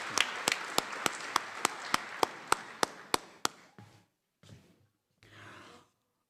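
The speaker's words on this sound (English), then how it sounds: "Please stand now so we may applaud your achievement." Clapping at an evening high school graduation ceremony: about a dozen sharp, evenly spaced claps that soften and thin out, followed by a few faint rustles and breaths.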